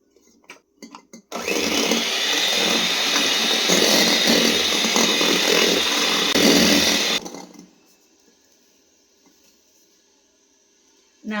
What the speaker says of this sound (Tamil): அதை கொஞ்சம் கொஞ்சமாக சேர்த்து நம்ம பீட் பண்ணிப்போம்.